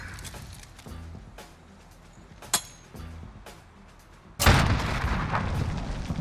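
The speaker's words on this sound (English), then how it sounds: "if you come up right on the side of it and you just throw the nade straight up in the air, it'll bounce right in front of them on the rooftop" A grenade in a first-person shooter bounces with a short bright clack, then bursts into a loud, sudden explosion whose rumbling roar sustains to the end, after quieter in-game ambience and footsteps.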